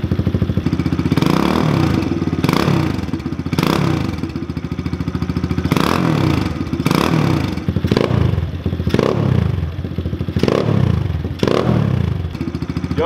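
A Kawasaki KLX 110 pit bike (2020) fitted with a Pro Circuit T6 exhaust revs in repeated loud blips, engine rising and falling about a dozen times from roughly five feet away, with no talk over it.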